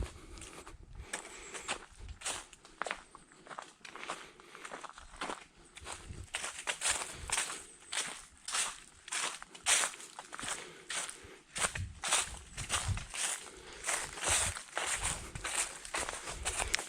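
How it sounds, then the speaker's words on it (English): Footsteps crunch steadily through dry forest foliage on a woodland trail in the piney woods of East Texas, a continuous close rhythm of rustling leaves and snapping twigs with no talking. "If you're like me, you like the sound of foliage. So I hope that sounded good."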